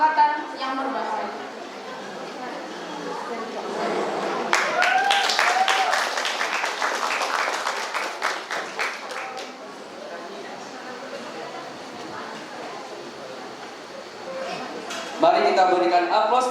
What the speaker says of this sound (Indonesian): Mari kita berikan aplaus kepada Tabina Sandia dari Mangsa Manurto.